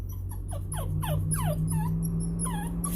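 Excited dog whimpering and yipping in a rapid series of high, rising cries, close and loud over a steady low engine-like hum, as the dog heads to a dog park.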